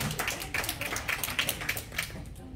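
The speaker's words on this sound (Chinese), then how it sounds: "来，我们热烈掌声" Brisk applause from a club meeting audience in a room as a new member is invited on stage, a dense run of sharp claps at moderate level with no talk over it.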